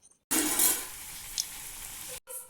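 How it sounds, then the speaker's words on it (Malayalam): Homemade samosas dropped into hot oil, a loud close sizzle that bursts in suddenly and keeps hissing steadily with a brief pop, then cuts out abruptly. "നമ്മൾ സമൂസ എണ്ണയിലിട്ട് പൊരിക്കട്ടെ ഗൈസ്."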